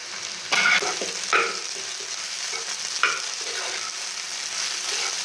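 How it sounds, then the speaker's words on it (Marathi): Sabudana and salt being stirred in a hot pan, with a steady frying hiss and a few sharper scraping strokes of the spoon, close and fairly loud. "हे पहा, असं मिक्स केलं ना की व्यवस्थित मिक्स होतं"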